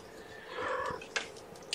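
Kittens meow in short, soft cries, one slightly longer call early on followed by a couple of brief squeaks, close by and fairly quiet.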